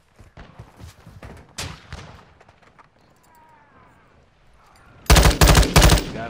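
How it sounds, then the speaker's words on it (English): Gunfire in the Modern Warfare 2 video game: scattered shots early on, then a loud burst of rapid shots near the end, with faint game sounds between them. "Shit, you're getting sniped at."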